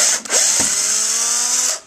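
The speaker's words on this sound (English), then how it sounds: "if you're not good with the power drill, just ask your dad to do it" A power drill drilling holes into a piston whirs loudly at high pitch for under two seconds, starting with a quick stutter and then running steadily before stopping.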